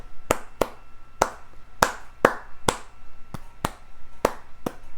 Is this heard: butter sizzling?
no